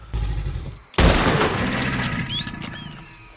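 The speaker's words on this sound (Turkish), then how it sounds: "Tek atışla kafadan 7 timsah ardarda arda öldürmeniz gerekli" A single loud rifle shot cracks sharply from a game's alligator hunt, with a long echoing tail after a brief low rumble, as in Red Dead Redemption 2 headshots.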